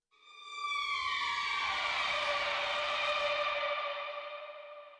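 A sustained synthetic Constrictor instrument tone swelling in with bright layered harmonics, washed in reverb and bouncing ping pong delay, holding steady for several seconds before slowly fading.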